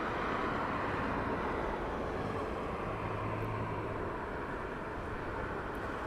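A WestJet airliner takes off at London Heathrow, its broad, steady jet roar heard from a distance as a constant wash of noise.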